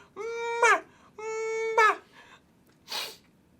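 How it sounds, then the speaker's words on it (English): Someone sneezes once near the end, a short breathy burst coming after two drawn-out, wavering vocal sounds made as the sneeze builds up. "Gonna sneeze."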